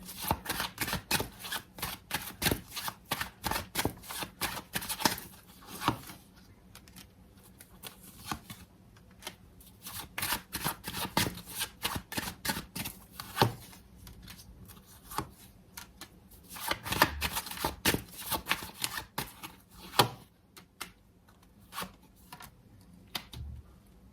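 Tarot cards shuffled in repeated bursts of crisp riffling and flicking, close and steady with short pauses, no voice over them.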